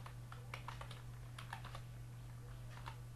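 Quiet typing of code on a computer keyboard, scattered clusters of soft key clicks over a steady low hum, with no talk.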